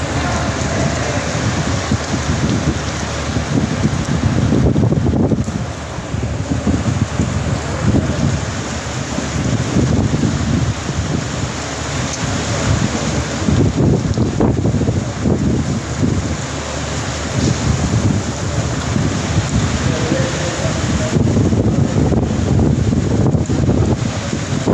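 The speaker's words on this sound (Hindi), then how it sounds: "बहुत बारिश, बहुत तेज़ बारिश हो रही है" Heavy rain pours in a violent windstorm in Gujranwala on an April evening, a continuous loud roar of rain with strong wind buffeting the microphone and occasional rumbles throughout.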